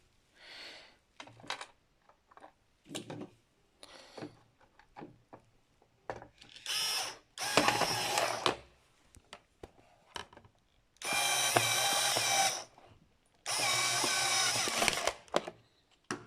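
A Bosch PSR 2.4V cordless screwdriver with a freshly replaced battery whirs in several short bursts, the longer runs near the end, separated by quiet pauses and faint handling clicks, close up with no speech.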